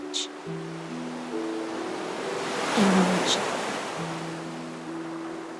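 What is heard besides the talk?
ocean waves in Honkai Star Rail video game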